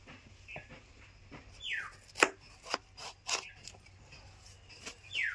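A knife slicing through a chilled red watermelon, giving a few crisp crunching cuts and scraping strokes, close and fairly quiet, with no talking.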